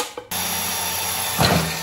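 A power drill runs continuously up close as it bores a rivet hole in a metal scoop for a 1928 Model A rat rod, starting with a sharp whir and growing louder as the bit pushes through.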